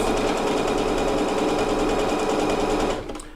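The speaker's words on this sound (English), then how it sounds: "So this is one where it makes the serpentine at an angle." Bernette B79 sewing machine stitching an angled serpentine decorative stitch, a steady rapid mechanical whir with rhythmic needle clatter running loud and close throughout, then stopping abruptly near the end.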